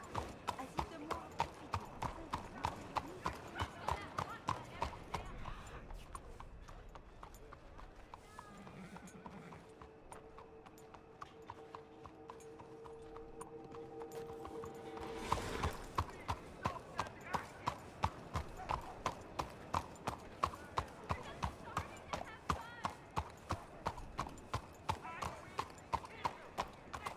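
A horse's hooves clip-clop in a steady, evenly spaced rhythm, fading briefly mid-way before resuming closer and louder, with a short whinny and voices talking beneath.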